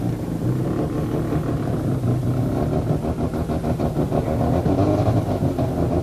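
A Mazda RX-7 four-wheel-drive rally car at a forest rallysprint, its engine droning and revving steadily and fairly loud throughout, with a rough pulsing rhythm as it works through the stage.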